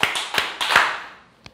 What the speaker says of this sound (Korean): 다시 한번 박수 3번 치고 시작하겠습니다